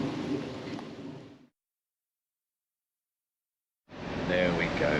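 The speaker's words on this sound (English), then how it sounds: "Very much a relief, this rain." Rain falls steadily outdoors as a broad, even hiss, cutting out completely for a couple of seconds before returning at the same strength.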